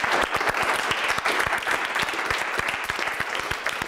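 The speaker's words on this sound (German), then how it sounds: "Mal Applaus für euch selbst." Studio audience and a group of about twenty volunteer candidates clapping on a TV hypnosis show, sharp close hand claps in a lively, slightly uneven burst lasting a few seconds.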